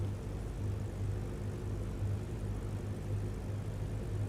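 A light propeller aircraft flying a landing pattern with its engine throttled back gives a steady, droning hum with a faint pulsing beat, continuous and fairly quiet, with no talk.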